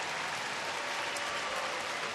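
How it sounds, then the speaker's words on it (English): Baseball stadium crowd applauding Texas Rangers pitcher Derek Holland as he walks off to the dugout, a steady wash of clapping heard from a distance, even and unbroken throughout. "For Holland, a nice round of applause as he heads back to the Ranger dugout"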